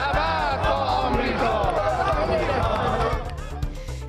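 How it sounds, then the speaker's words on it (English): A large crowd in Iran chants in unison at an anniversary rally for the Islamic Revolution, loud massed voices rising and falling steadily throughout with general crowd noise beneath. "a crowd in Iran chanting death to America while celebrating the country's 40th anniversary"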